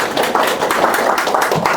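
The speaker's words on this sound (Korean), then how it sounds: "큰 박수로 맞이해주시기 바랍니다." An audience at a winter-school information session claps to welcome a speaker, a dense, steady wash of many hands applauding in a hall, sustained without a break and without talk.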